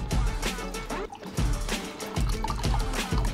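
Water poured into a container, a steady trickling flow broken by brief pauses, close and fairly loud, with no talk over it.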